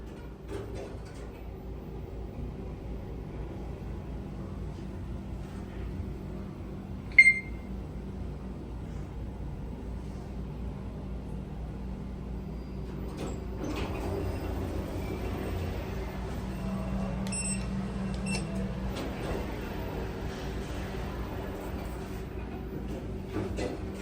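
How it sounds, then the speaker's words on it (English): Schindler 3300 machine-room-less traction elevator running at Asia Times Square in Grand Prairie, Texas, a long faint low hum and whir with one short beep early on and a slight rise in rumble later. "It's just your basic Schindler 3300 elevator."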